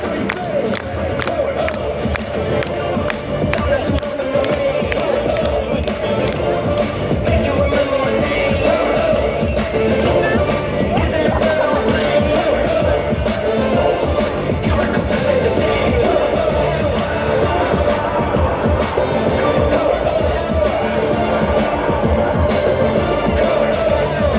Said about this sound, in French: Allez, on applaudit encore maintenant ce monsieur.